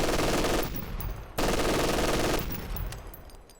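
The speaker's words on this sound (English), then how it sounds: "they got a machine gun unit" Enemy German machine gun firing in Company of Heroes 2, two sustained loud bursts of rapid automatic fire separated by a short gap, with the second burst tailing off into fainter battlefield noise.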